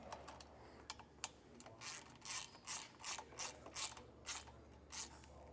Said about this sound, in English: To tighten these down, you're going to need a Phillips head screwdriver and a 3/8 socket